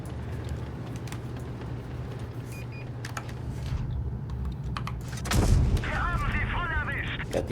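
Tank cannon fire in the mobile game World of Tanks Blitz, a heavy boom rising out of a constant low engine rumble and battle noise, with someone talking over it.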